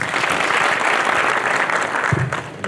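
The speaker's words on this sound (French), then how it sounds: "Applaudissez-le, s'il vous plaît." Loud, dense applause from a conference audience at a Moroccan startup export event, sustained clapping throughout with a brief low thump near the end.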